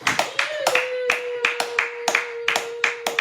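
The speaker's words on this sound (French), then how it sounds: "Nous acclamons plus fort pour la gloire de Dieu." A church congregation claps in steady rhythmic unison during a Sunday worship service, with loud, close hand claps at roughly three per second over a sustained voice.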